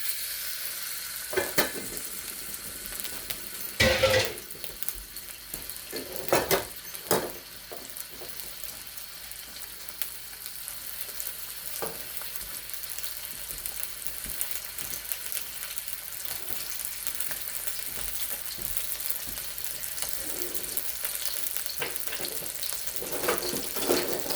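Bacon frying in olive oil in a pan for string beans, a steady close sizzle with a few louder clatters and stirring bursts early on, no talking.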